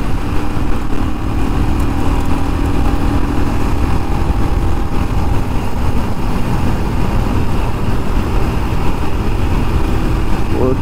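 A Royal Enfield Scram 411 motorcycle runs steadily in fourth gear, its engine drone and wind rumble constant and close throughout, with someone talking over it.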